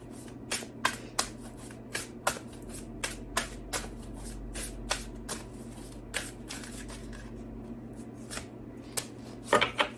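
Psychic Tarot cards shuffled by hand, a steady run of crisp riffling flicks and soft slaps repeating for about ten seconds, close and fairly quiet, with no talking.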